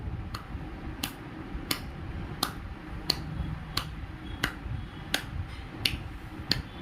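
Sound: child clapping hands

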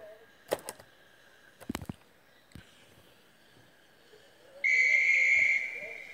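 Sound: whistle blowing

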